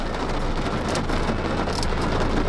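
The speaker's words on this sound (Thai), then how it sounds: "มาถึงปุ๊บฝนตก ตกหนักเลย" Heavy rain pours steadily at a forest campsite in a valley in Phipun district, Nakhon Si Thammarat, a dense continuous roar with no break and no voices.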